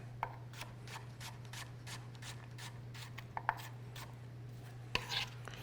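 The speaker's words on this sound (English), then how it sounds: "We're going to cut up some radishes. Give it a quick chop." A knife chops radishes on a cutting board in a cottage kitchen, a quick run of soft, evenly spaced taps close by and faint over a low steady hum, with a sharper knock near the end.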